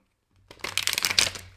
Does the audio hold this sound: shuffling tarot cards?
yes